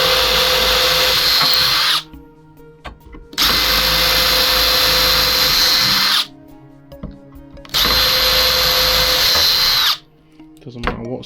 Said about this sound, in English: I'm going to come in with a small pilot drill as straight as you can.